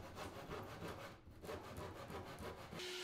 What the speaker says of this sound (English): I just had to finish off the cuts with a handsaw.